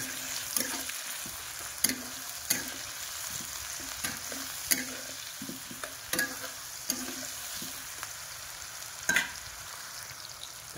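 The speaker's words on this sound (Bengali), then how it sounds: "এটাকে নাড়াতে থাকবো যতক্ষণ লাল হয়।" A frying mixture of onion is stirred until browned, giving a steady low sizzle with regular spoon scrapes and taps against the pan, close and quiet, with no talking.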